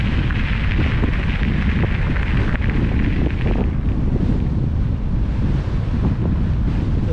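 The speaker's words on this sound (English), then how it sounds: "Just wish we could get rid of this wind." Strong wind buffets the microphone without pause during a drive from Tharwa to Adaminaby near the gravel road toward the Alpine Way, a loud, rumbling, roaring blast that swamps everything else.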